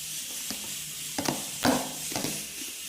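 Spoon stirring homemade two-ingredient slime on a table, a few soft squishy strokes over a steady hiss, close and fairly quiet with no talking.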